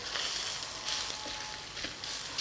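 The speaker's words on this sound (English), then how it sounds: "So you want to sear it nicely and get a sort of good browning on one side first" Meat searing in a hot pan for chop suey, a steady bright sizzle running evenly and fairly close throughout, with no voices.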